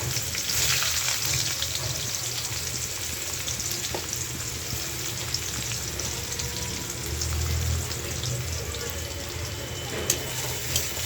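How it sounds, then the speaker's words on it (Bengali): Onions frying in hot oil in a wok with bay leaf and cumin, giving a steady, close sizzle throughout with light stirring and a faint clink or two. "এখন এই যে পেঁয়াজ দিয়ে দিব।"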